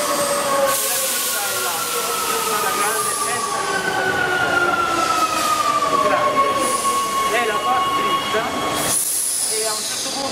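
A Rome metro train runs through a station, its wheels squealing in long gliding tones over a loud rumbling roar, with door or brake hisses near the end.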